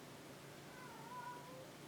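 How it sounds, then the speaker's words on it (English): A cat meows mournfully, a thin drawn-out cry standing out faintly against quiet room background, with no talking over it. "What on earth is the matter with one of my cats?"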